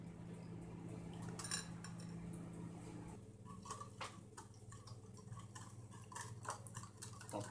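Cream, with melted butter to come, mixed in a bowl for a cinnamon tart: faint, quick clinks and taps of a whisk or spoon against the bowl, quiet and close, becoming busier and more irregular partway through.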